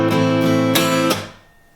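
A guitar strummed in a hi-hat style groove with an accented sixteenth note before the snare beat, a few bright close strums ringing, then cut short and fading out.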